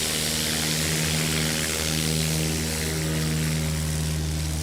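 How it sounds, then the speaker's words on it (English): A Piper Cherokee light propeller plane at a STOL competition in Sulphur Springs, Texas roars down the runway on takeoff, its engine a loud, steady, droning tone throughout with no speech. "Barreling down the runway in the mighty Cherokee"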